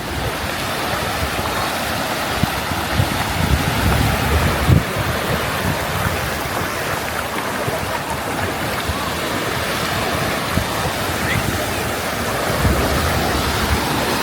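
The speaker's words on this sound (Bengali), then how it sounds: "এবার অনেক সুন্দর একটা ঢেউ আসতেছে।" Sea waves roll and break continuously on a Bengal coast beach, a loud, full surf roar mixed with wind buffeting the microphone.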